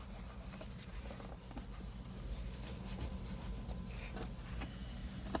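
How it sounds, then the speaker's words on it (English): A dry cloth wipes down a surface inside a 2014–2021 Toyota Tundra during a 40/20/40 seat console install, giving soft continuous rubbing strokes close up over a low background hum. "wipe down with a dry cloth."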